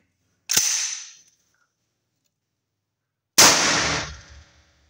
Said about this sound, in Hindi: ये टेस्ट फायर हो गया।